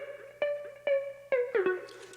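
A synth patch built in Serum and layered with heavy effects for a future rave intro plays a few separate plucked, rhythmic stabs with bright harmonics and a short pitch dip, ending in a washy, noisy tail.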